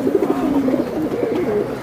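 Pigeons kept in a loft, Giribaz and high-flyer breeds sitting on eggs, give close, soft, continuous low cooing that fills the moment without any talk.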